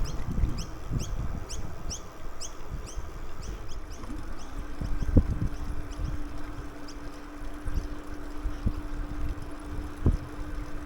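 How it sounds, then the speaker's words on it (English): A steady electric motor whine from a passing e-scooter rises in partway through and holds, with birds chirping overhead and outdoor rustle underneath, on the Esplanade at Hervey Bay. "Sounds like an e-scooter."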